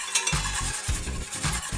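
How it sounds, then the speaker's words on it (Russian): Spoon stirring a spiced butter marinade with dissolving salt in a pot, a series of short scraping strokes at an uneven rhythm, close and moderately loud, with no talk. "Мешаем, чтобы наша соль растворилась."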